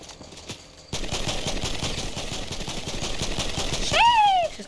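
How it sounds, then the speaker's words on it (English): Gunfire in the Fortnite video game: after a brief quiet start, rapid repeated shots crackle for several seconds, followed by a whooshing, sliding tone at the end. "I heard some gunfire up here"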